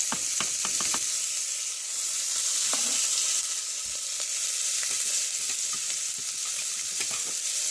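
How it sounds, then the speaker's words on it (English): Onions for Spanish rice fry in a pan with some liquid, giving a loud, continuous close sizzle with a few sharp clinks of stirring near the start and no speech. "So there goes in the onions."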